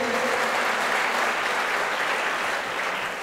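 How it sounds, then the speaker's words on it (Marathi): An audience at a birthday felicitation ceremony claps, producing loud, dense, continuous applause that holds steady and eases slightly toward the end. "हिच्यासाठी एकदा जोरदार टाळ्या होत्या सर्वांनी"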